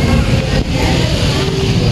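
A jeep ride with loud, continuous engine and road rumble heard from inside the vehicle, steady throughout with no break.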